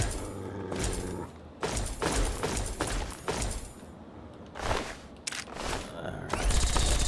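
Enemy gunfire in the video game Fallout 3, with bursts of shots and impact crashes clustered in uneven volleys, loud and near against game noise.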